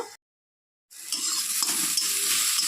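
Eggplant sizzles in hot oil in a pan after being salted and covered. After a brief silent gap, a steady, fairly loud frying hiss rises with faint stirring scrapes and carries on to the end.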